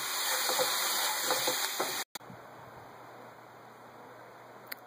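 Pork ribs with Thai basil sizzling loudly in a pan, a dense close crackle broken by a sharp momentary gap as the pieces are flipped, then a quieter steady fry.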